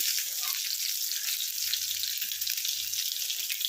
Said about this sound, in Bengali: ডিমটা হালকা করে ভেজে তুলে দিলাম